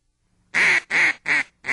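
Four loud, close duck quacks come in an even rhythm, each a short nasal burst with clear gaps between them, in an outdoor duck-hunting setting with no voices.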